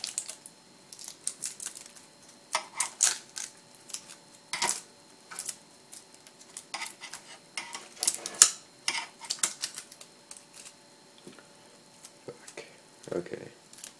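Tape being peeled off an Xbox 360 part during heatsink replacement, heard as close, crackly ripping and tearing bursts that come in irregular short spurts with quiet gaps between them.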